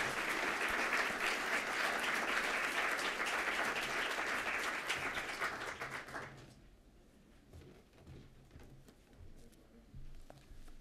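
Audience applause welcoming a speaker to a Black History Month program: sustained dense clapping from a crowd for about six seconds, then thinning out and fading to scattered claps and room noise.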